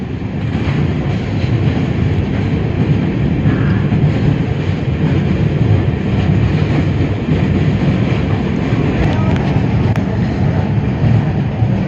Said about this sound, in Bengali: মানে ট্রেনটা পোলের ওপর দিয়ে পার হচ্ছে